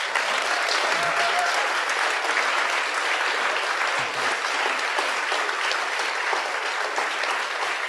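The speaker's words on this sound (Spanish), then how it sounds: "un aplauso, por favor" Sustained, dense applause from a cinema audience at a live Q&A screening, steady and loud throughout with no break, a full room clapping continuously.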